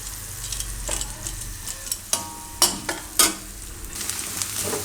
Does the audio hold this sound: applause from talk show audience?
no